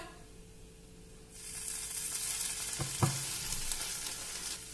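Boiled grated potatoes are stirred in a hot pan with tomato ketchup for a paneer pakora filling. A quiet start gives way to a steady close sizzle, broken by a couple of brief scraping knocks near the middle.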